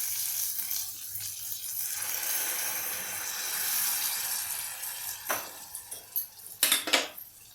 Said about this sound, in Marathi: हलवून घेऊया.